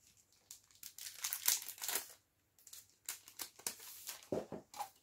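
A ruler, a 30 cm craft ruler, is unwrapped from its packaging, with close crinkling and tearing in irregular bursts separated by a brief pause.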